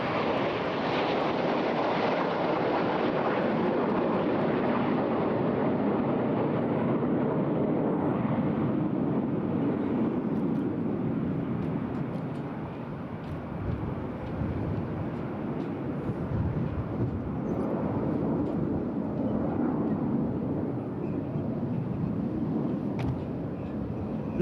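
Red Arrows jets fly a display at the Eastbourne International Airshow, producing a sustained, broad engine roar that swells and fades slightly as they pass, with faint commentary in the background.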